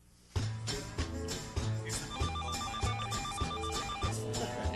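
A telephone rings in a repeating pattern, its bright electronic tones pulsing steadily after a quiet start.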